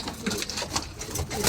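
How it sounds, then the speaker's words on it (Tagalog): Racing pigeons in a loft make a busy, steady mix of soft coos and fluttering close by, with no one speaking. "Ito ang ating mga ibon."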